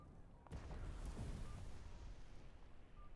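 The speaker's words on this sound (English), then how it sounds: "They're shooting off fireworks." Fireworks burst in the NEO: The World Ends With You video game, a loud boom at half a second followed by a dense rolling rumble of continuous blasts that slowly fades.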